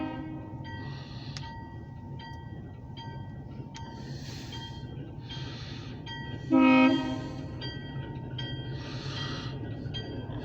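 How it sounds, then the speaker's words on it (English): A short OC&T flatcar train rolls past while a Subaru Baja waits at the crossing, with a steady rumble of cars and wheels throughout and one brief, loud horn blast near the middle. "Subaru Baja is gonna wait for the train to come by."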